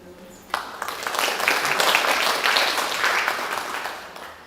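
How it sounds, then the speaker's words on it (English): Audience applause at a Bhagavad Gita Chapter 5 session for the Lohana Community in North London, a burst of clapping that swells quickly and holds for several seconds before easing off. "So I think they deserve a big round of applause"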